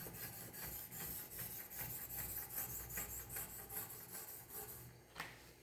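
Steady back-and-forth scraping as an 800 grit Wicked Edge sharpening stone strokes the bevel of a Zwilling prep knife, with an even rhythm of soft strokes and quiet, close detail.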